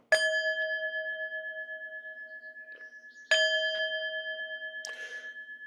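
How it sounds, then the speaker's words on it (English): A meditation bell rings clearly in a quiet room, two resonant strikes each leaving a long, sustained shimmering tone that slowly fades, with a softer chime near the end. "So I'll keep just repeating, ringing the bell."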